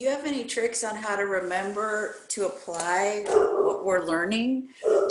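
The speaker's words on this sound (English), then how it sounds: "That's my dog." A pet dog whimpering and yipping in high, wavering whines, close and fairly loud, running through and beneath a person speaking.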